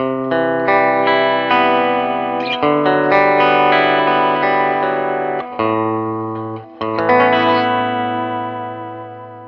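A Paoletti electric guitar plays a series of sustained chords and notes with a slightly distorted, chorus-tinged tone, each ringing out before the next strum, switching between neck pickup, both pickups and bridge pickup.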